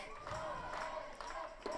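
A home crowd of Heidenheim Capitals fans cheers and chants in a baseball stadium during the finals, a steady, fairly distant wash of voices with a commentator talking over it.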